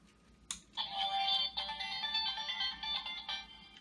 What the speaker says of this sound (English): So that's the same basic sound that it makes, the morpher does.